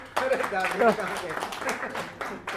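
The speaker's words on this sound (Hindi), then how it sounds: "तो ये दद्दू जी के लिए जरा आप लोग ताली बजा दीजिए" An audience at a talk on leadership claps, scattered claps building into bursts as a speaker's voice continues over them.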